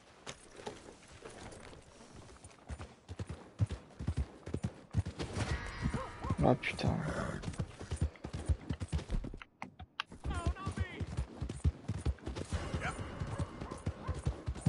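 Horse hooves gallop in Red Dead Redemption 2 with a fast, continuous clip-clop over game ambience, and a man briefly exclaims in French.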